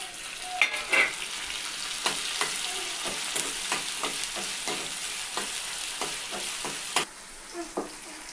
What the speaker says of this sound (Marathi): आपण मग त्याच्यामध्ये लसूण जिरं टाकू, मिरची टाकू, थोडं परतल्यानंतर आपण टमाटर घालू